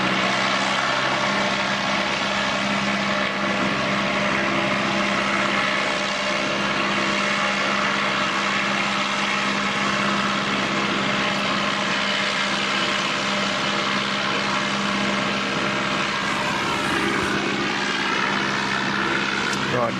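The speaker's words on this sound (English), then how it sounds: "you can see the ATR was on the test flights just coming back." ATR turboprop airliner returning from a test flight at Christchurch Airport in wet conditions, giving a continuous droning propeller and engine hum at moderate distance, with a person talking over it.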